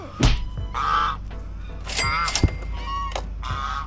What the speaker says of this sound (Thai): ห่านน่ารัก ห่านน่ารักห่านเข้าไปแล้วทุกคน